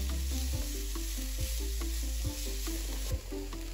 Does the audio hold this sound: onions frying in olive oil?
yes